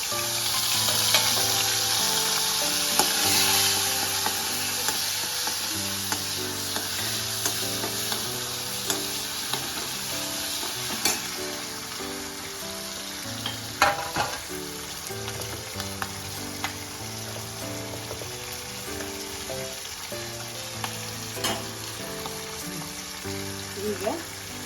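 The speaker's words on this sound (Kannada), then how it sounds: "ಸಾಸಿವೆ, ಒಣಮೆಣಸು ಹಾಕೋದು. ಚಟಪಟ ಅಂದಮೇಲೆ ಹಸಿಮೆಣಸು ಹಾಕೋದು." Mustard seeds and dried chillies crackle in hot oil for a brinjal sambar, a continuous close sizzle peppered with sharp popping spatters, while someone talks and music plays underneath.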